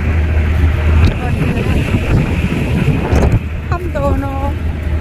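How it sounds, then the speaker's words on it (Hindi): Wind blowing outdoors on a sunny day while riding a scooter, a loud steady rushing buffet against the microphone throughout, with a low engine hum underneath and a few brief tones near the end. "हवा चल रही है"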